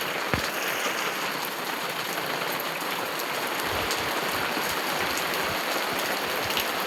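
The first May monsoon rain in Konkan falls in a dense, even hiss of drops on surfaces, close and steady throughout, with no talking.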